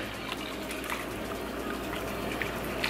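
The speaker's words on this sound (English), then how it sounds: "Fill the rest up with boiling water." Boiling water is poured into a container that is already half full, giving a steady, soft hiss of liquid filling with no talking.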